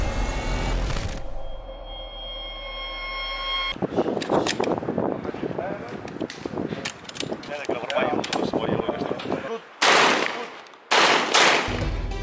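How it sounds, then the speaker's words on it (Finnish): Shotgun fired outdoors in Egypt, a series of loud sharp blasts amid broadband noise, with bursts and pauses, following an opening electronic tone. "Tää tyyppi halusi näyttää mulle, että miten ammutaan haulikolla."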